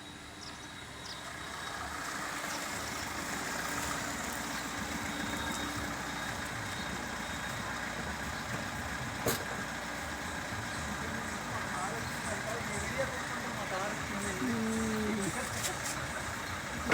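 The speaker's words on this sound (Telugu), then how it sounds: "అందు గురించే ఈ కారు సౌండ్ కూడా వినబడుతుందండి." A car engine rumbles faintly as the vehicle passes in front of a house at sunset and then stops, a low steady drone under outdoor ambience with sparrows chirping now and then and a voice talking.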